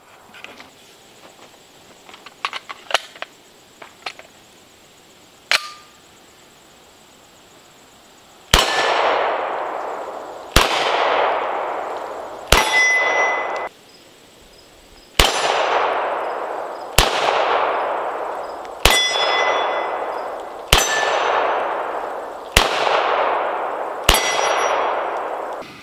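H&K USP Expert pistol with a 5.2 inch barrel firing single rounds, about eight sharp loud reports spaced a second or two apart, each followed by a long ringing decay, after some handling clicks of loading.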